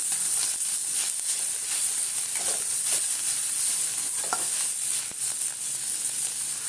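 Pieces of meat fry in a pan for chowmein, a loud continuous sizzle close by, broken by scraping stirring strokes and occasional clinks of the spatula, with no one speaking.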